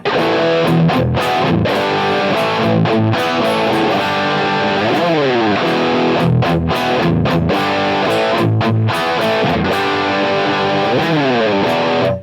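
Electric guitar through an 808 overdrive on a Helix Live, playing loud, crunchy chords and sliding bends, with a warm, gritty distortion throughout.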